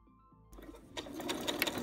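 Sewing machine stitching a seam on a kimono, a brief hush followed by a fast, rising mechanical rattle of stitching close up, with no talk.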